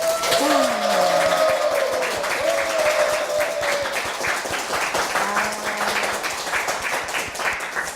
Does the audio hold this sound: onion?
no